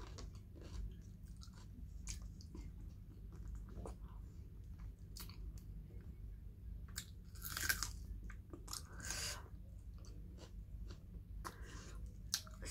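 Fatty pork with rice is chewed close to the mic during a mukbang eating show, with a steady run of soft crunchy, wet bites throughout and no talking.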